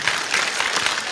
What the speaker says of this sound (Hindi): अच्छा आप लोग ताली तो बजा रहे हैं